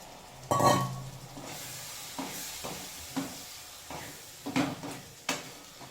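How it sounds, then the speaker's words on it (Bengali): Dal (lentils) go into a hot pan with a sizzle, and several sharp utensil knocks and stirring clatters follow at irregular intervals. "দিয়ে দিচ্ছি ডাল"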